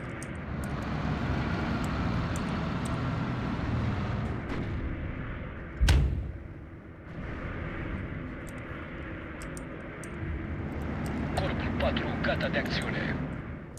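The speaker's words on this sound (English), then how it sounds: "This airstrike is coming in." Artillery and an incoming airstrike in the World War II strategy game Steel Division II: a constant low battlefield rumble, broken by one loud, sharp blast, while someone talks over it.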